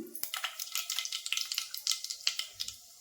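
Mustard seeds crackle and sizzle in hot oil in a pan that first held fried peanuts, a dense run of sharp pops and spits with no talk over it.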